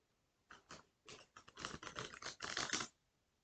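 Tarot cards being shuffled by hand, a quick series of soft crisp riffling and patting bursts close by, growing denser toward the end before stopping.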